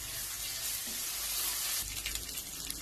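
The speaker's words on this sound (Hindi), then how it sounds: "अब इसमें ऐड करेंगे अदरक लहसुन पेस्ट और इसे हम 1 मिनट तक फ्राई कर" Ginger-garlic paste fries with golden onions for a potato bhujia, giving a soft, steady sizzle that turns busier with scraping and spattering near the end, fairly quiet and close.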